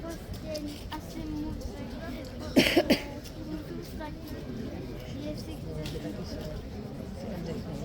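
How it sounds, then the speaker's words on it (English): A short burst of coughing from tourists rises briefly over a steady murmur of outdoor crowd noise at Horse Guards, London, a few quick coughs close together. "Apologies guys for the tourist coughs in the background."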